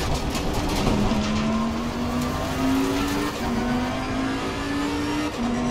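Bentley Continental GT3 engine in Assetto Corsa Competizione, a steady loud drone with a slowly rising pitch through a long pull, plus tire and road noise and no talking.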